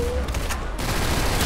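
Pistol gunfire in a video game, a dense burst of shots close and loud over a continuous noisy game soundtrack, with no speech over it.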